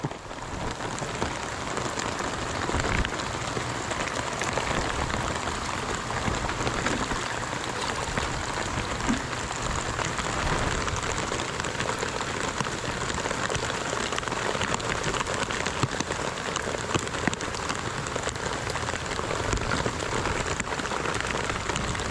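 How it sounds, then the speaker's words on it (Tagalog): Heavy rain pours down steadily, a dense, loud hiss of drops striking surfaces that continues unbroken without any voices. "grabe lakas ang ulan"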